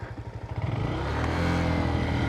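A Honda Grom motorcycle engine revs up and accelerates, a close, loud rising mid-pitched drone that builds over the first half and holds steady.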